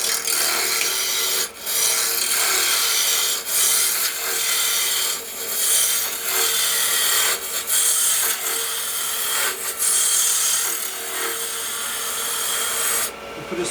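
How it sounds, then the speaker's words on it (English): A swept-back bowl gouge roughs down a wood blank spinning on a lathe, making a steady, loud scraping hiss that runs continuously with brief dips as the tool lifts and re-engages. "Just going to use a swept back bowl gouge just to rough that down very quickly."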